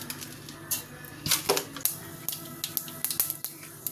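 Mustard seeds sputter in hot oil in a pan while cooking a carrot, beans and egg stir-fry, giving a quick run of sharp, scattered pops and crackles at close range with no talk.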